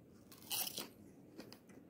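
Close, crisp crunching while chewing a mixed salad with plant-based meat from 7-Eleven: one loud crunchy bite, then a smaller crunch and quieter chewing.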